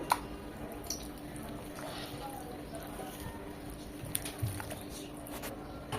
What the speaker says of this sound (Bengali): আবার আরেকটু আলতো হাতে ভালোভাবে মাখিয়ে নেব।